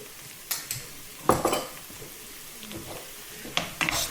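Shallots, garlic, chilli and tomato paste sizzle and fry in a pan while being stirred, with steady close sizzling broken by several scraping knocks of a utensil against the pan.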